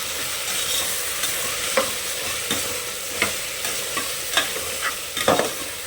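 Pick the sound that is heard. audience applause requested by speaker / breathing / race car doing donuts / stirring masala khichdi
stirring masala khichdi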